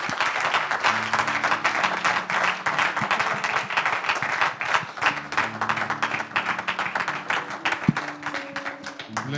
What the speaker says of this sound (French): Let us give the Lord a hand